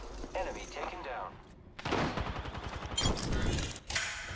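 Gunfire in Apex Legends crackles in dense rapid bursts, loud and close, starting after a brief lull and continuing with a short gap, while a player talks over it.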